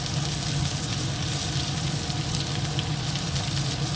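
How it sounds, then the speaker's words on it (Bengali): A spice paste with turmeric, chilli powder, sugar and salt fries in a pan, giving a continuous close sizzle with faint stirring and no voices. "এবার মশলাটা একটু কষিয়ে নেবো"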